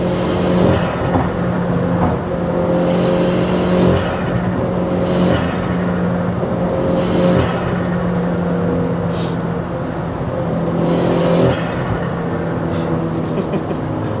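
A modified 260 HP Opel Corsa OPC accelerates hard on wet roads, its engine droning and surging through repeated revs and gear changes from inside the cabin while people talk over it.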